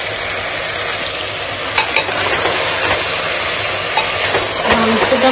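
Meat being slow-sautéed (kasha) in a pan gives a loud, continuous frying sizzle up close, broken by a few sharp spatula knocks against the pan, with no talking.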